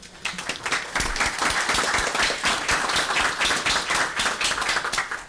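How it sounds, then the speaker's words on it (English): An audience claps for two student researchers honoured at a village board meeting, a dense, steady patter of many hands that carries at an even level for several seconds with no voices on top. "so we can applaud them really quickly"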